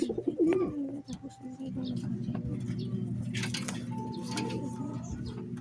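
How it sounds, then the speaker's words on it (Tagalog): Steady low pigeon cooing close by, a continuous droning coo with occasional faint chirps and rustles in the background. "Yung mga kalapati natin."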